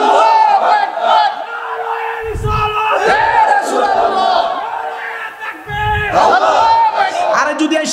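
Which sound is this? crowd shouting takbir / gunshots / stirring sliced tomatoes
crowd shouting takbir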